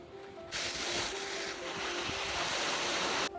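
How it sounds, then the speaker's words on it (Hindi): Madhuganga waterfall in the Himalayas, near Kedarnath, plunges from great height and gives a loud, steady broadband roar of falling water that starts suddenly and holds for about three seconds, with no talk. "हिमालय के पहाड़ों के बीच हजारों फीट की ऊंचाई से गिरता हुआ ये वाटरफॉल किसी स्वर्ग से कम नहीं दिख रहा था"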